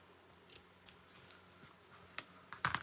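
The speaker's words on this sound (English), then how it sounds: "But I take a very sharp pair of scissors." Sharp scissors snip through two layers of fabric beside a seam, a few quiet isolated clicks building to a louder close cut at the end, with no voices.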